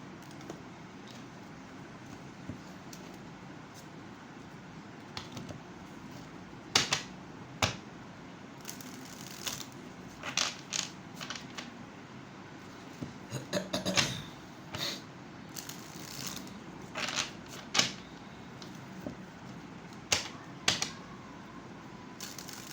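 A small tarot deck is shuffled by hand in scattered bursts of quick papery riffles and taps over a quiet room, with no talk.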